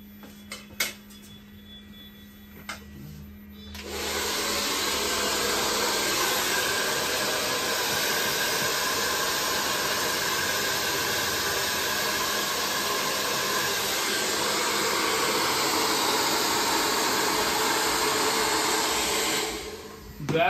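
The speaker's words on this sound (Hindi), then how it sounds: "इसको ड्रायर से इसकी सेटिंग करते हैं" A hair dryer switches on after a few quiet seconds and blows in a loud, steady whoosh for about fifteen seconds while a hairstyle is set, then cuts off; nobody speaks.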